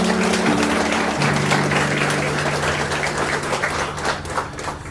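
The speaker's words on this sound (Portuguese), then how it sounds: "Dê uma salva de palmas." Applause from guests at an evangelical wedding ceremony, a steady wash of clapping lasting several seconds over a low sustained musical tone.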